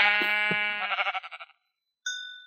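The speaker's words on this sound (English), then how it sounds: "First we're going to kill a sheep." A sheep bleats in the Minecraft video game, giving a long wavering cry that breaks into quick pulses and fades out. A short pause follows, then a bright chime-like game sound starts.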